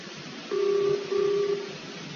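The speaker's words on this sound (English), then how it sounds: "I'm phoning the army." Push-button telephone dialing in an old-time radio comedy: two steady electronic tone bursts, each about half a second, over a low hiss, with no voices.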